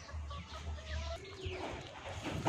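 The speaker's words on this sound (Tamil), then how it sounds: "கூண்டில் சின்ன கோழிங்க இருக்கும், எல்லாம் பெரிய கோழிங்கெல்லாம் கட்டி போட்டு வச்சுருப்போம்." Chickens in a cage on a small farm garden cluck and coo, several birds heard at moderate distance in a soft continuous background with scattered calls.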